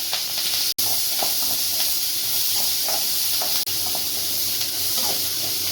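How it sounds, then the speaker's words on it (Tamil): Chopped onion and green chillies sautéing in hot oil with mustard seeds and cumin, a continuous close hiss and sizzle with faint occasional stirring, plus two brief sharp clicks, no speech. "வெங்காயம் பச்சை மிளகாய் வதங்கணும்"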